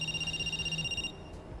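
A telephone ringing in the video game Cash Cleaner Simulator; one short electronic ring trills rapidly for about a second, then cuts off, heard clearly at low level.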